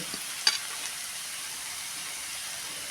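Fenugreek leaves are sautéed in a pan, giving a faint, steady sizzle with one small clink of the spatula early on, close and alone.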